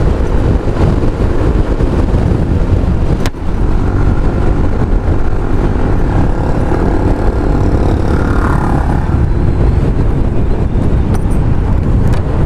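A motorcycle engine pulls uphill with a steady, loud, close drone, heavily buffeted by wind noise throughout, with no talking.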